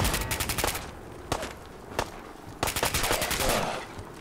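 Rapid automatic gunfire in the Fallout 4 video game, loud dense bursts of shots with brief pauses between volleys, close and alone without talk.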